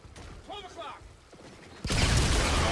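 Call of Duty Infinite Warfare combat bursts into loud, dense gunfire after a quieter stretch with someone speaking, the firing continuing steadily to the end.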